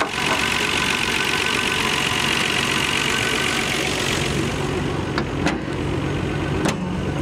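A 1999 Nissan Skyline R34 GT-R V-Spec engine idling with the hood open, a steady, busy mechanical hum with fine ticking, close and constant, a couple of sharp clicks near the end.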